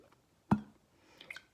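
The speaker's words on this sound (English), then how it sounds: "that's the sound of air pushing the water away" Air trapped in an upturned glass pushes against water: one soft gulping splash, then a few faint bubbly trickles, quiet and close.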